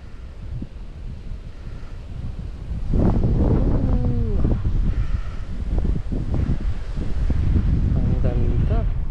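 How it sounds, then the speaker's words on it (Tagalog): Wind blowing hard past the ears at a Bulacan lookout, rising from below as a steady roaring buffet that grows stronger after the first few seconds, with faint voices underneath. "Tumutunog pa sa tenga ko yung ihip ng hangin eh."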